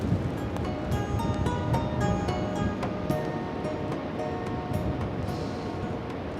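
Wild Atlantic Ocean surf rumbles continuously along the shore, a dense steady wash of breaking waves with wind buffeting the microphone, no voices.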